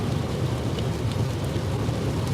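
Heavy rain on a very rainy day, a dense, steady wash of noise with a low rumble underneath, loud and continuous throughout with no one talking.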